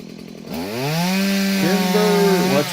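A chainsaw rises from idle to a loud, steady high rev, trimming tree branches while up on a ladder, held close and continuous with slight pitch dips as it cuts.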